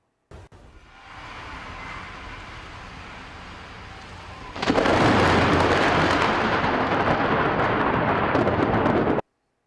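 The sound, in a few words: thunder during a rainstorm, played video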